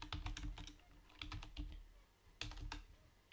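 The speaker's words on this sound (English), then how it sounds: "So now let's type the other one" Quiet, close typing on a computer keyboard, with bursts of rapid key clicks separated by short pauses.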